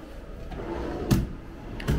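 A drawer slides open and shut with two short wooden thuds, close by in a quiet room.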